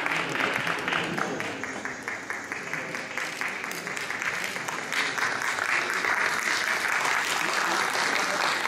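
An audience at a ceremony in Ankara marking the 101st anniversary of Ardahan's liberation from enemy occupation applauds warmly as a plaque is presented, a sustained dense wash of clapping that holds steady throughout.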